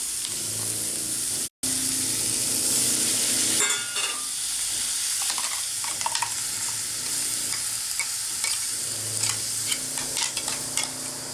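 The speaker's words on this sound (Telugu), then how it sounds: "ఇప్పుడు మనం పేస్ట్ చేసుకున్న బీట్రూట్ వేసేసుకుందాము" Beetroot paste for a South Indian beetroot rasam sizzles and fries in a hot pan, with a steady hiss broken by scraping stirs and clinks of a spoon against the pan.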